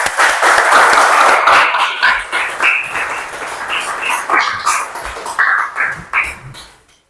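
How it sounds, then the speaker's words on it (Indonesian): Participants in an Indonesian teacher-training session clap together, loud at first, then thinning into scattered bursts that fade out near the end. "berikan tepuk tangan untuk semuanya"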